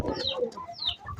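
Pigeons at a nest with two newly hatched chicks make a brief burst of close, soft chirps and coos.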